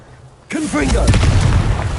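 A Confringo spell in Hogwarts Legacy bursts with a sudden loud fiery boom that rumbles on through the rest of the moment, with a voice briefly heard over the blast.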